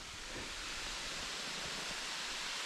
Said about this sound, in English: That's the waterfall there.